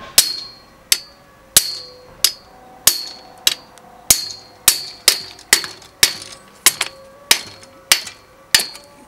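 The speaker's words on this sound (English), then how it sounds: "hammer," A hammer strikes a metal tool about fifteen times in a steady rhythm while removing an old English 3-speed bicycle bottom bracket, each sharp ringing clang decaying before the next blow, loud and close.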